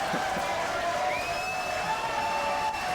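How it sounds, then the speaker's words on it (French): French TV studio audience cheers and applauds on cue from the host, a continuous loud crowd din with whoops and sustained tones running under it for the whole three seconds. "Applaudissements s'il vous plaît."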